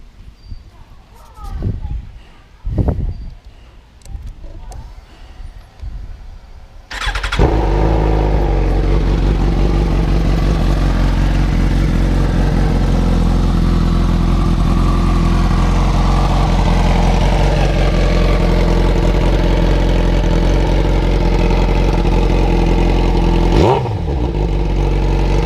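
A 2015 Suzuki GSX-R1000 sport bike fitted with a GP shorty exhaust starts up and idles loud and close, with a deep steady roar and a quick revving blip near the end, after a few brief sounds at the start.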